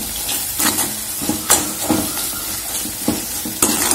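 Bitter gourd curry being stirred in a pan after coriander powder and coconut powder go in, a steady sizzle and simmer broken by several sharp scraping strokes of the spoon against the pot, close and fairly loud.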